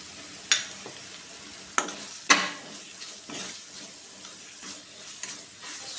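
Turmeric, chili powder and dried fenugreek leaves fry in hot oil with a soft, steady sizzle, punctuated by a few sharp spoon scrapes and clinks against the pan, close and unaccompanied by speech.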